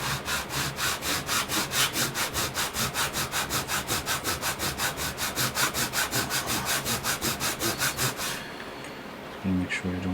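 Sandpaper rubbed by hand over a workpiece during a building and painting project, a steady rapid back-and-forth rasping in even strokes, close and loud for about eight seconds before stopping.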